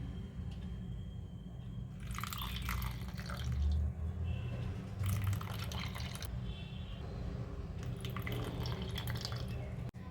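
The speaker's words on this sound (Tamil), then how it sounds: "இப்போ இந்த ட்ரேயில் ஜூஸை ஃபில் பண்ணிக்கலாங்க." Amla juice pouring into a silicone ice cube tray, heard as soft liquid trickles and drips in intermittent bursts over a low steady background hum, close and fairly quiet.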